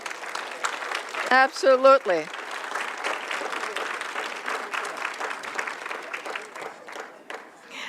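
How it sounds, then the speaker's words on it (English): Council-chamber audience applause honouring the city fire service, a soft even patter of many clapping hands after a brief spoken word at the start, fading slightly toward the end. "Yes, we need a round of applause."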